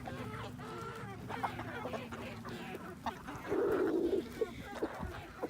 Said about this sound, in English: But I have a ton of chickens